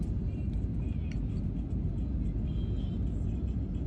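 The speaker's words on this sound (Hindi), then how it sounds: "बिल्कुल हम लोग लैंडिंग के करीब हैं।" Inside an airliner cabin on approach to landing at Vijayawada, Andhra Pradesh, a steady low engine rumble and cabin whir hold throughout, with a few faint ticks and no clear talk.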